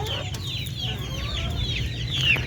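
Darag native breeder chickens cluck and murmur continuously in a coop, several birds close by with overlapping calls over a steady farmyard hum.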